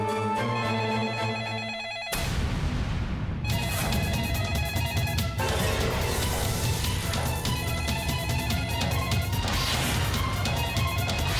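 Telephone ringing indoors in a Hindi drama scene, an electronic ring cut off by a sudden crash-like burst, then a sustained bright ringing tone with no voices.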